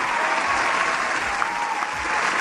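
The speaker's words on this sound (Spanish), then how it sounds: "Fuerte el aplauso, por favor." Dense, loud studio audience applause fills a short stretch, continuous clapping from a crowd with no voices over it.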